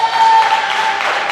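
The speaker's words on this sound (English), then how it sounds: "Crowd popping off, getting everybody hyped up" Loud, dense cheering and applause from a crowd at a youth 13U ninja obstacle competition ahead of a championship rematch race, a continuous roar with a sustained whistle-like tone running through it.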